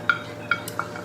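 A spoon scraping and knocking against a cooking pot while stirring food with ground meat and corn, three distinct clinks spaced about half a second apart over a quiet background.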